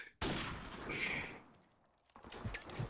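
Gunfire bursts from Call of Duty Modern Warfare Remastered multiplayer: a sharp, loud rattling volley begins abruptly, sustains briefly and tapers, followed by scattered fainter shots and impacts nearby.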